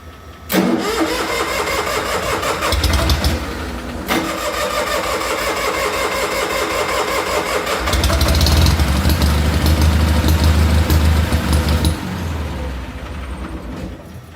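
Onan DJB diesel engine cranking and catching, with a couple of loud start attempts that settle into a steady, rough, close idle that pulses and swells before easing off near the end.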